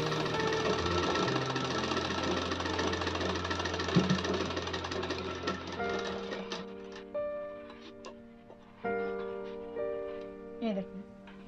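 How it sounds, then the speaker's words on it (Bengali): A sewing machine double-stitches a gown cut from a net saree, a fast rhythmic whirring run that slows into short stop-start bursts of stitching, fairly close and moderately loud. "আবার কিন্তু আমি আরেকটা সেলাই দেবো, ডবল সেলাই।"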